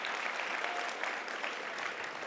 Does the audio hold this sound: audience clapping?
yes